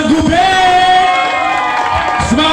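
A group cheers together with whoops and shouted voices at close range, a dense, steady crowd sound lasting the whole moment.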